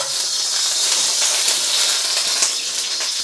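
Vegetable oil sizzles in a smoking hot wok, a loud, continuous bright hiss with faint crackles throughout and no voices.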